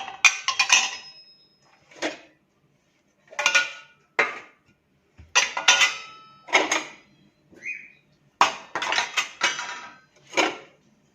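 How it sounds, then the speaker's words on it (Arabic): Small plates clatter and clink as they are set one by one into a dishwasher rack, about a dozen sharp ceramic knocks in irregular bursts with quiet gaps between. "اطباق صغيره ممكن نحطها فوق هنا."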